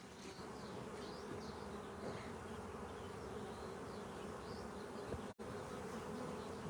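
Honey bees buzz thickly around an opened hive during a hive split, a dense, steady drone close by that fills the whole stretch, with no talking.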